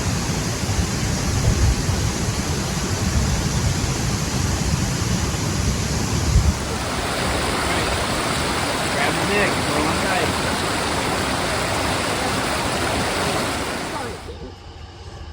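Steady roaring rush of falling water at the Falling Waters waterfall, broad and loud throughout, with a person speaking briefly over it before the sound thins near the end.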